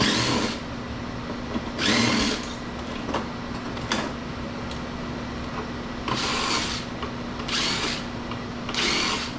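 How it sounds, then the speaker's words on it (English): A power drill unscrews screws from scrap fittings salvaged from a train station. Short whirring bursts repeat about six times, separated by quieter gaps of handling. "I'm just going to go and unscrew everything I can."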